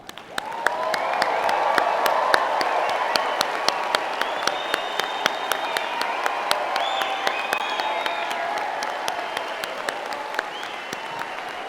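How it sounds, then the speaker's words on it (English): A crowd at a University of Calgary spring convocation ceremony applauds graduates with sustained clapping in a large hall, along with some cheers and whistles, holding steady for about ten seconds. "And let's give our graduates a proper applause."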